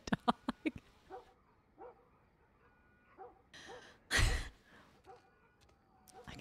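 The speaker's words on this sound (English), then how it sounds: "Do you hear the dog?" Dog barking in the video game The Last of Us Part 1, a few short sharp barks at the start, then quieter game sounds and a loud burst midway.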